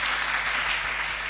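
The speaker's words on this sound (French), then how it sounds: "Acclamons Jésus" A church congregation applauding at a Sunday service, steady dense clapping that fills the whole short moment.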